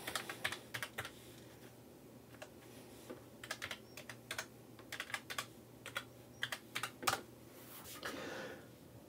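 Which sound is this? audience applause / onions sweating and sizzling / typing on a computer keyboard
typing on a computer keyboard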